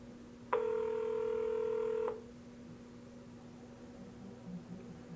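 A GrandPad tablet places a call, giving one steady dialing tone that lasts about a second and a half, clear and alone over a quiet room hum.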